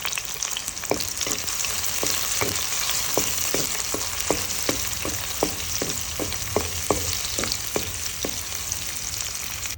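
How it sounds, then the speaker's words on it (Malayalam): Chopped shallots and curry leaves sauté in hot oil in a pan for a Kerala dried prawn curry, giving a continuous sizzle broken by regular crisp clicks of a spoon scraping and stirring, with no talking. "ഒരല്പം കരിവേപ്പിലയും കൂടി ഇട്ട് നമുക്കിതൊന്ന് വാട്ടിയെടുക്കാം."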